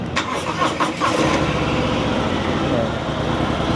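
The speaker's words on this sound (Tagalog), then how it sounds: "now let's hear yung sound check ng Dr. Jekyll and Mr. Hyde exhaust" A motorcycle fitted with a Dr. Jekyll and Mr. Hyde switchable exhaust runs steadily at idle after a brief burst of start-up clatter, a loud, continuous close-range engine rumble with people talking over it.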